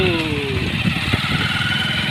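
Motorcycle engine heard while riding, with a steady, close mid-pitched drone running through the whole stretch and no talk over it.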